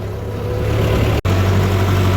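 A tractor engine runs steadily at close range, a loud continuous low drone with a brief cut in the middle.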